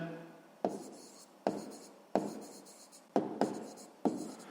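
Pen strokes writing out a sixth-grade math solution on paper, six distinct scratchy strokes at a steady, slightly uneven rhythm, close and moderately loud with no voices.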